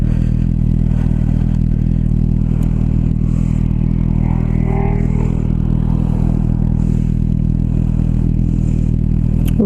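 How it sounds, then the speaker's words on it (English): A motorcycle engine idles steadily close by, a continuous low mechanical drone with faint clatter and no speech. "Ooh, let the bike run."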